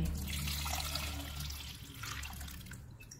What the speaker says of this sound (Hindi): इनमें पानी डालेंगे।